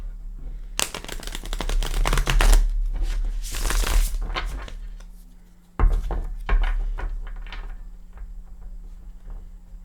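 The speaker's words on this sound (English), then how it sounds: "We'll give them a shuffle or two with you here." Tarot card decks are shuffled close by in two riffling bursts, each a fast papery flutter and patter. A quieter rustle and soft taps of cards follow between them, and no one speaks.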